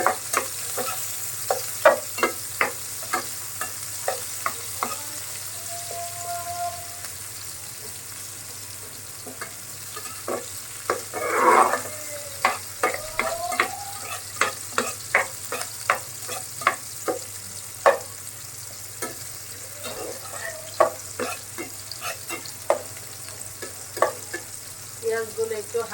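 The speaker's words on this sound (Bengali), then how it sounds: "সরিষার তেল দিয়ে রান্না করবো খাসির মাংসটা" Whole spices, cinnamon and cardamom, frying in mustard oil for a mutton curry, giving a steady low sizzle with frequent sharp scraping and stirring clicks throughout, close and fairly loud, no talking.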